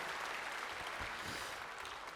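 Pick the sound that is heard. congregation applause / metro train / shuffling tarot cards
congregation applause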